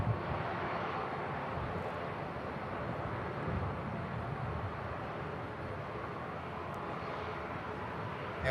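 Air France airliner at Manchester Airport with its jet engines spooling up on the runway, a steady broad roar held at even loudness throughout, with no voices.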